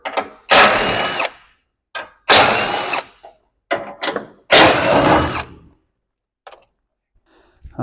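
A power tool drives a 13 mm socket during an aftermarket install on a next-generation Ranger, whirring in three loud, roughly one-second bursts with a few short blips between and after.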